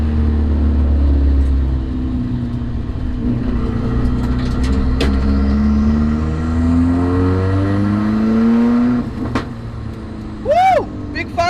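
A Nissan 240SX S14 engine revs up and down in long sweeping rises on the road, loud and close, with a brief higher whine near the end.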